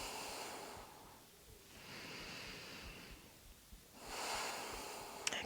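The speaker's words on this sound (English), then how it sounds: "breathing in and out through the nose" During a morning vinyasa yoga session, slow, quiet breaths are drawn in and out through the nose in long, soft swells, each rising and fading alone with no talk.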